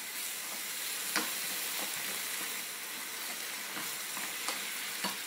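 Shrimp and mushroom filling with soy sauce sizzling in a pan as it is stirred, a steady soft frying hiss with occasional light scrapes and taps of the utensil, close and alone.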